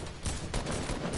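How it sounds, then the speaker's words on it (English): Rapid bursts of gunfire crackle densely in a Fortnite match, loud and continuous with a brief lull partway through. "What are you shooting at?"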